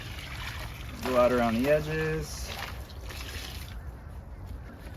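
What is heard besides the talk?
water poured into concrete mix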